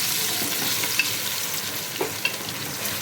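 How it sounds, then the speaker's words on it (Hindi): Onions frying in hot oil, a dense bright crackling sizzle with occasional small clicks from stirring, close and steady throughout. "तेल हमारा बिल्कुल गर्म हो चुका है, ठीक है। प्याज डाल दिए हैं"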